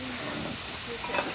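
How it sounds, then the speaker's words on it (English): Plov pilaf boils in a pot over an outdoor fire, a steady dense bubbling and sizzling hiss that runs evenly throughout with a slight swell near the end. "It's boiling."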